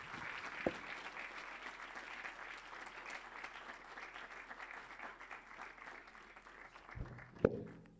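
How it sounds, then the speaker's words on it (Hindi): A congregation at a Sunday church service claps in sustained applause, a steady even patter of many hands that continues throughout, with a couple of louder knocks near the end. "ज़ोरदार तालियां बजाएं"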